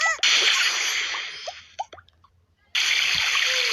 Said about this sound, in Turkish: Şimdi Tom'u banyo yapacağım da.